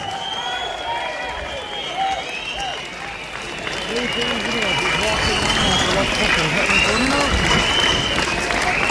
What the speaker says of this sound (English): Please give her a massive round of applause.